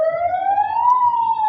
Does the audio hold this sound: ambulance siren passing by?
yes